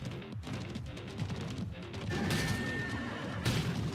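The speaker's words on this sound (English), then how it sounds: "This mushroom looking horse bitch." A horse-like creature in the video game Stellar Blade neighs with a loud, drawn-out whinny over steady game background sound, with a brighter burst near the end.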